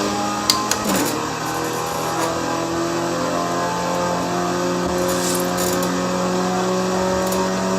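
A stock Renault Megane in a racing video game, its engine holding a steady mid-pitched drone for several seconds after a brief rise near the start, loud and alone with no talk.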